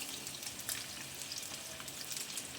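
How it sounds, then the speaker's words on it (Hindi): Eggs fry in a tablespoon of cooking oil with a steady, crackling sizzle and light spitting, close and continuous, with no voices. "अंडे हमने फ्राई कर लिए हैं"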